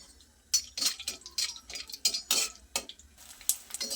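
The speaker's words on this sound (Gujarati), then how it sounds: "ગુંદરને આપણે આ રીતે સરસ ફૂલે ત્યાં સુધી હલાવતા જઈ અને ફ્રાય કરી લેવાનું છે" A spoon scrapes and clinks against a pan in irregular strokes as edible gum is stirred in ghee, with a faint frying hiss beneath.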